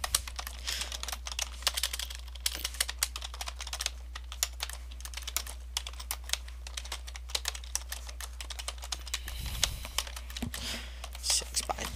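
Steady, fast typing on a computer keyboard while writing documentation, a dense run of close, crisp key clicks over a constant low electrical hum, with no talking.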